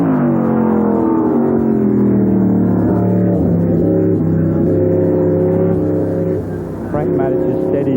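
A Repco-powered race car engine drones loudly and continuously, its pitch wavering with gear changes, while a commentator talks over it during the 1973 Tasman Series Chesterfield 100 at Warwick Farm.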